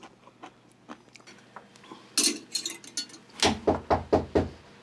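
Someone knocks on a door, first with a few light scattered taps and then with a burst of loud, sharp, evenly spaced raps. The knocks are close and clear, with no talking over them.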